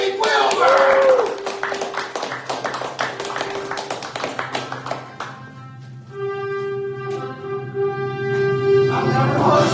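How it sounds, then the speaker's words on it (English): At a Christmas festival, an audience claps, with a dense patter of hands at the start that thins into scattered claps, while people talk and a tonal note rings out later. "Let's give a big round of applause."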